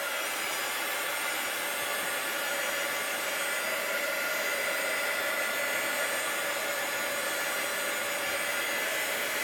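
A heat embossing tool blows hot air over an art journal page covered in tinted glycerin and ink, a steady unbroken whoosh that holds at one level throughout with no talking.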